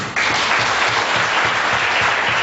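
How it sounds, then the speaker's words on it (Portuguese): Loud, steady applause from a church congregation during an evangelical deliverance service, starting abruptly and continuing densely without a break. "Vamos aplaudir Jesus."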